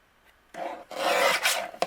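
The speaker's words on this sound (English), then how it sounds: "we're going to bring in our paper trimmer" A paper trimmer slices through patterned paper in a short, close rasping glide, a soft scrape followed by a quick final snick.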